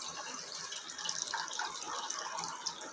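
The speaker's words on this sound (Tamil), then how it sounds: "எங்களுக்கு தேவையான அளவுக்கு நான் தண்ணி ஊற்றிக்கிறேன்" Water poured into a pot for a drumstick (moringa) soup, giving a steady close splashing trickle that runs throughout without talk.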